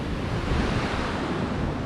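The Ross Fork river in Idaho flows with a steady broadband rush of water, continuous and fairly close, mixed with some wind noise and no talk.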